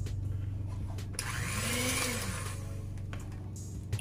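Electric mixer creaming fruit cake batter, a steady motor whir with a brief rising-and-falling pitch sweep midway as the load shifts; continuous and fairly close, no talking.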